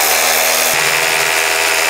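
Power drill boring through a house wall during renovation, a loud harsh continuous grinding whine that holds steady from start to end, with a brief shift in pitch partway through.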